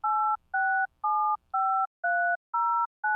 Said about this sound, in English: DTMF tones